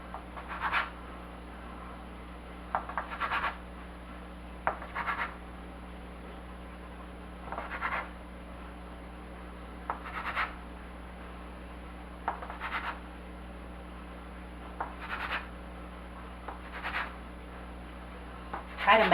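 A knife or bench scraper cuts yeast dinner roll dough into pieces on a work surface, making soft, evenly spaced scraping taps roughly every one to two seconds over a low steady hum.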